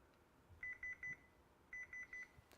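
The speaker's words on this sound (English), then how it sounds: "you'll hear the thing make a beep." An Epson BrightLink projector timer beeps in two bursts of four quick electronic tones, clear and fairly near against a quiet room.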